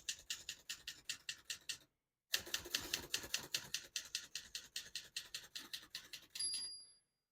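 Close keystrokes on a 1968 Adler Tippa S portable typewriter, struck lightly in a quick, steady run, with a short pause partway through and a brief ring of the margin bell at the end.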